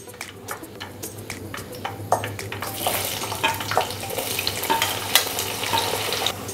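Onions fry in a pan over high heat with a steady, close sizzle. Occasional clinks of a spoon against the pan mark the stirring, and the frying grows a little louder toward the end.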